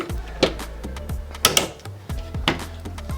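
A few clicks and knocks of a pull-out storage drawer in a 2025 Forest River Wildwood 44VIEW RV being pulled out and handled, with mechanical rattles in between; close by, no talking.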